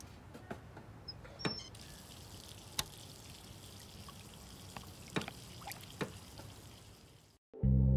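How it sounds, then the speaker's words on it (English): Water trickles steadily from a tap into a sink, with a few sharp clinks scattered through the running water before it cuts off abruptly. "I'll run the water for you, Beth."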